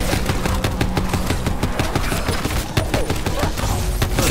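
Loud, rapid gunfire in Call of Duty Black Ops 4 zombies mode, sustained automatic bursts filling the whole stretch.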